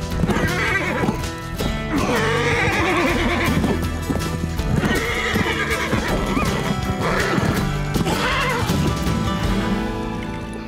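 A horse neighs loudly and repeatedly, with clip-clop hoofbeats and a full, busy backdrop throughout.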